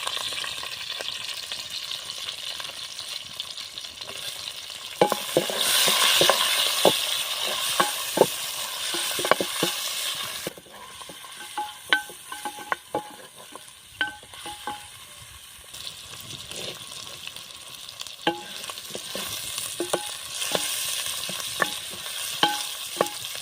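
Onions fry in a pan outdoors among village fields, a steady sizzle under repeated scraping and knocking strokes of a stirring spoon, rising louder in bursts and then easing back.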